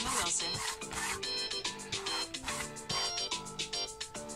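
Phone ringtone going off indoors, a repeating electronic melody of short tonal notes in a steady rhythm, moderately loud and heard alone.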